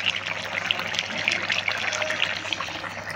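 Dahi chicken, a yogurt chicken curry, is tipped from the cooking pot into a bowl, giving a steady wet, sloppy pouring and sliding hiss that runs continuously at close range, with no talk.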